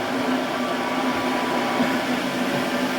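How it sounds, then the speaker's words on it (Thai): A 1000-watt blender runs steadily while blending coarse, fibrous ginger with water, giving a loud, continuous motor whir and churning with no pauses throughout. "ไอ้เครื่องปั่นนี้ก็หนักเป็นพันวัตต์นะฮะถือว่า แรงพอสมควร"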